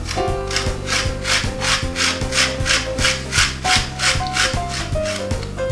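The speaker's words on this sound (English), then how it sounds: "we need some lemon zest" Lemon being zested for a prawn ravioli dish, a steady run of rhythmic rasping strokes against a grater, close and fairly loud, with music playing underneath and no talk.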